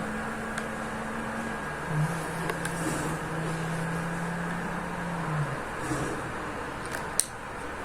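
A car in GTA 5, with one wheel damaged, drives with a steady low engine drone and a faint hum, moderately quiet, broken by a few small clicks and knocks.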